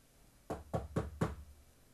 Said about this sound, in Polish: Ktoś ponownie puka.